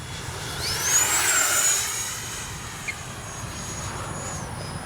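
An FMS 70mm Yak 130 RC jet makes a low pass with a rising then fading turbine whine, loudest near the middle, heard alone outdoors.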